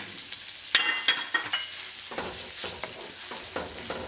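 Thinly sliced cabbage hits a hot wok for fried rice with a bright sizzle and clatter, then gentler frying with a run of quick scraping stirs, close and without voices.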